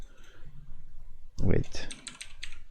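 A password is typed on a computer keyboard at a Windows 10 sign-in prompt. A soft thump is followed by a quick run of close keystroke clicks that continue to the end.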